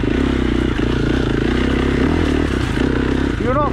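A Big Wheel 85 four-stroke dirt bike engine drones steadily and loudly throughout, a continuous mechanical roar with a voice talking over it.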